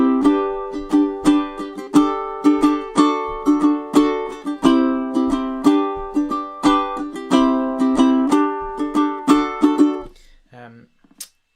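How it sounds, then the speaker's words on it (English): Ukulele strumming a rhythmic chorus pattern for a song, steady busy strums with accented hits, close and clear, ending with a brief pause and a couple of soft plucks. "I've written down what looks like a horrendously complicated strumming pattern above that chorus"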